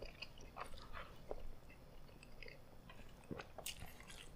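Soft, close bites and wet chewing on a spicy sauce-coated egg from Korean cold noodles, a few crunchy clicks spread over a few quiet seconds.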